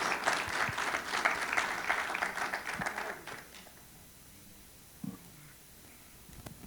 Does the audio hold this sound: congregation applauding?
yes